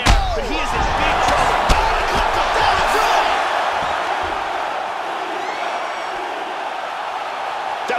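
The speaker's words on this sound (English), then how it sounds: "Crowd absolutely loving it." Arena crowd in UFC 3 roaring and cheering after a heavyweight knockout, a loud sustained wash of cheers with whoops and a sharp impact slam near the start, continuing steadily throughout.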